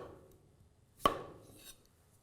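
A single knife stroke chops through potato on a board while dicing in a home kitchen, one crisp near thunk standing out from quiet background, followed by a faint softer tap.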